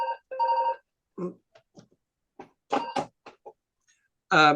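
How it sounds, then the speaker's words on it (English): A mobile phone rings during a talk in an indoor lecture setting, giving two loud electronic ring bursts at the start and another near the end, while a presenter speaks briefly between them. "that's my phone going."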